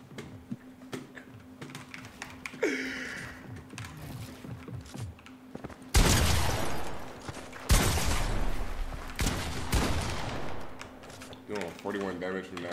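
Rapid bursts of automatic gunfire in a video game, loud sharp volleys, mixed with keyboard and mouse clicking and a player talking.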